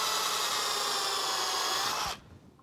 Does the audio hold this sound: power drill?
yes